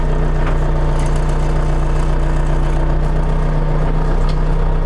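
A new DTZ 504 tractor engine runs steadily during break-in, a loud close diesel drone with a constant low hum and unbroken throb throughout.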